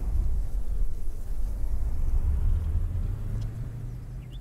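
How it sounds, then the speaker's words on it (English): Cars passing on a road behind someone planting tulips and roses on a farm, a continuous low traffic rumble that swells and fades slightly, with no talking. "The sound of the cars behind me are starting to get to me just a little bit."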